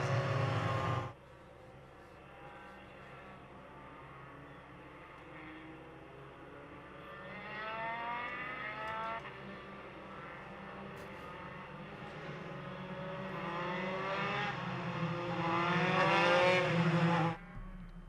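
Formula Enterprise race cars at an SCCA national championship race, circulating slowly in a group behind the safety car, a continuous engine drone with rising and falling revs that swells as the cars pass closer, no voices.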